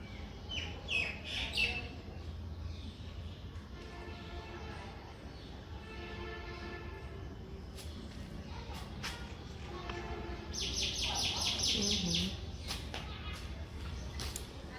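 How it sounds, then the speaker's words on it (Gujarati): A bulbul chirps in a bright, quick burst of repeated notes about two-thirds of the way through, against steady outdoor background noise and faint voices. "મસ્ત મજાની બુલબુલ આવી ગઈ છે."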